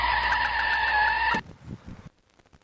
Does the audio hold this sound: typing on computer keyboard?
no